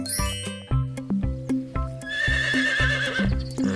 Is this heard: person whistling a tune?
no